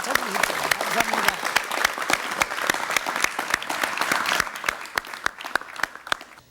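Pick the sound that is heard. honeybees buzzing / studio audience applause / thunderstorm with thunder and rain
studio audience applause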